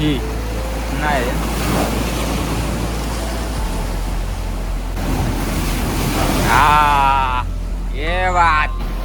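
Sea waves roll and break at Mandavi beach in Ratnagiri, with a constant surf roar and wind buffeting the microphone. People talk over the waves now and then.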